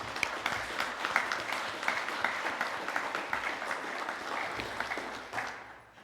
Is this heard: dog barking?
no